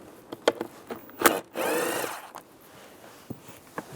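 A 7mm socket backs screws out of a 2007-2013 Chevrolet Silverado interior panel: a few sharp clicks and taps, then a short ratcheting whir, close and quiet with gaps between.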